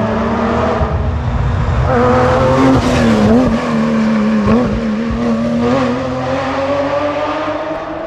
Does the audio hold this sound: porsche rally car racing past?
yes